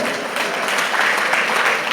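A crowd at a Christian wedding ceremony in a church breaks into steady, dense applause that fills the whole stretch at even volume, with some voices faintly mixed in.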